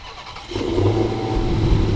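After a short quiet moment a 2021 Dodge Challenger SRT Super Stock engine cranks and catches, settling into a loud, rumbling idle close by.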